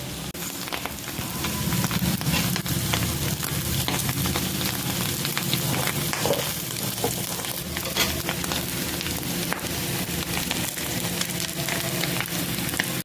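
Dry fish frying in a pan with curry leaves and chilli powder, a steady dense sizzle and crackle holding close and loud from start to finish, with no voices.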